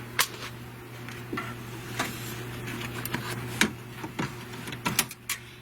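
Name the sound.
embroidery machine stitching applique heart placement line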